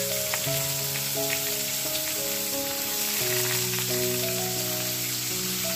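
Bay leaves, dried chillies and Gobindobhog rice sizzle in a hot pan, a steady close crackle and hiss with occasional stirring, under a bright melodic tone.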